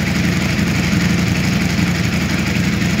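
A Ducati V4 Speciale motorcycle engine idles steadily after a warm startup, a loud, close, continuous throb with an even pulsing rhythm and no voices.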